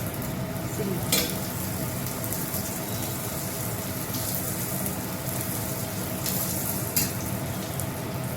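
Bread frying on a hot tava, with a steady close sizzle and crackle running the whole time and a couple of brief sharper spits, no voices.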